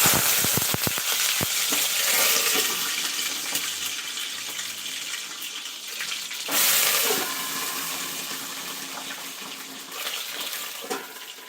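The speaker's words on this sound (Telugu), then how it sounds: "ఆయిల్ వేడయ్యింది ఈ వంకాయల్ని కొంచెం స్లో ఫ్లేమ్లో పెట్టుకోవాలి" Brinjals fry in hot oil on a slow flame, giving a loud, continuous crackling sizzle close by with sharp spitting pops at the start and a brief surge midway, with no voices.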